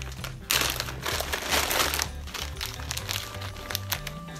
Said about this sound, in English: I got this bag of beads. And there's a lot of beads in here.